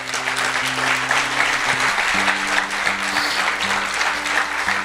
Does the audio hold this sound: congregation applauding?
yes